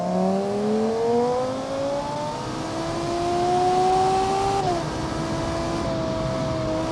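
Engine of a 2010 track coupe in the video game BeamNG at full throttle, a loud, close howl climbing steadily in pitch, then dipping briefly at two gear changes before rising again.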